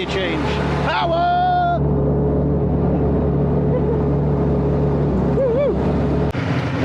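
A tractor engine at a farm machinery auction drones loudly and steadily nearby, changing pitch as it shifts gear, while someone talks over the running motor.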